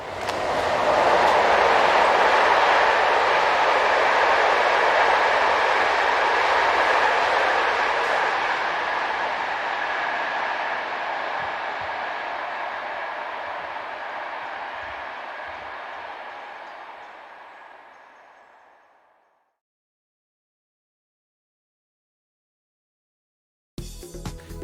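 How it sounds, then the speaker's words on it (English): An SNCF class BB27000 electric locomotive hauling a Basel–Nancy passenger train roars past close by, a loud sustained rush that slowly fades into the distance and then silence. "a class BB27000 heads north with a train from Basel to Nancy"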